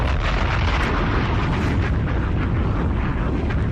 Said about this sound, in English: Drop a goddamn bomb for that.